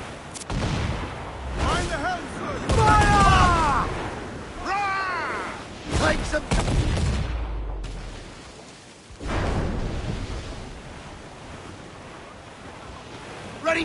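Several heavy ship cannon blasts boom in Assassin's Creed Black Flag, spaced apart over rushing wind and surf, with shouted voices between them.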